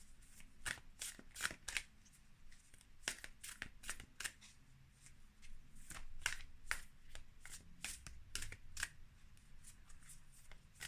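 Moonology oracle cards are shuffled by hand close to the microphone, giving soft, quiet riffling bursts in an irregular rhythm with no talk.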